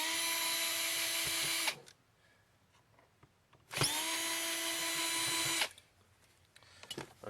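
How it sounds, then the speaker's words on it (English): A power drill whines in two steady bursts while backing screws out of a Kirby vacuum cleaner's rear housing, close and bright, separated by quiet handling clicks, with a brief trigger blip at the end. "We need to take the screws off in the back here."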